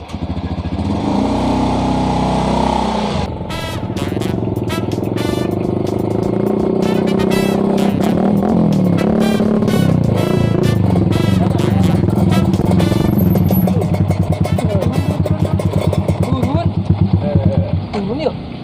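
A motorcycle engine starts up nearby and runs loudly, rising and settling with revving and a rattling clatter, while people talk over it in a comic drama scene.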